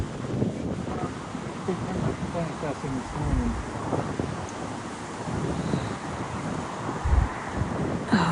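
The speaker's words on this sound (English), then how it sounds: "Oh, I wish it wasn't so windy." Strong outdoor wind buffets the microphone in a continuous rumbling rush that rises and falls, with a voice speaking over it.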